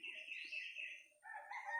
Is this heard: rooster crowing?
yes